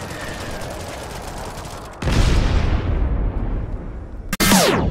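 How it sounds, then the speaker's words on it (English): Airstrike explosions in the Modern Combat 5 shooter game: a rumbling stretch of gunfire gives way to a sudden heavy blast that booms and decays, then a second sharp explosion crashes in at the end. "airstrike."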